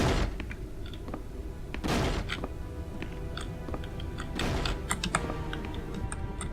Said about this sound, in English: A typewriter.